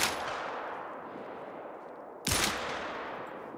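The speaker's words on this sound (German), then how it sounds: "Aber ich habe zumindest einen Schuss drauf bekommen." A single sharp hunting rifle shot from a 10mm Davani in the woods in theHunter: Call of the Wild cracks out partway through, its report ringing and fading over a low, steady background rumble.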